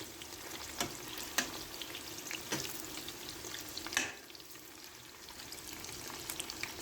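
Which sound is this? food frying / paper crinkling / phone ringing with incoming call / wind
food frying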